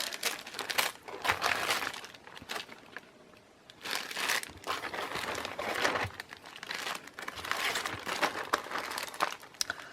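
Old thrifted tracing paper, the kind used for making sewing patterns, is handled up close, crinkling and rustling in several bursts separated by brief quieter pauses.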